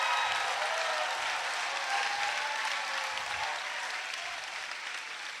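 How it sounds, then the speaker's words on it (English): Sustained applause from a large crowd at a school showcase, a dense, even wash of clapping that holds steady and slowly fades slightly. "Everybody give them a round of applause."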